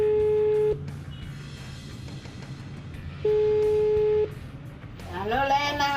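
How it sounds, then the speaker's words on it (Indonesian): A phone call rings out with two long steady ringback tones separated by a low background hum, then a voice starts at the end. "saya telepon dulu mbok saya di kampung."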